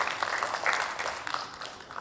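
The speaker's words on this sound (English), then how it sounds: "So bigger round of applause for all of you who join us here." Audience at a startup pitch event in Chandigarh applauding, a moderate wash of many hands clapping for about two seconds with uneven swells and no speech over it.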